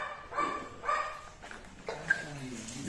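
A large pit bull at a kennel gives a few deep, separate barks, moderately close, with someone talking in Portuguese between them.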